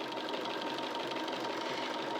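A sewing machine runs steadily at speed, stitching through quilt blocks with a fast, even mechanical whir and rapid needle chatter, close and continuous with no talking.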